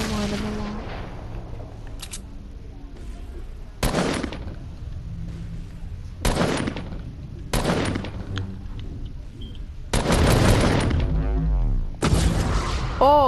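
Repeated bursts of gunfire aimed at a creature in a video game, several sharp loud volleys spaced a few seconds apart over a steady game background, the last burst at about ten seconds the heaviest.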